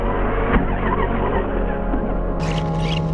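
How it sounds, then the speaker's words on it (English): An Eachine EAT11 4WD ready-to-run RC car drives with a whiny electric motor buzz and tire noise, a sharp knock early on, then a burst of high scratchy skidding near the end. "but let's drive this awesome RC."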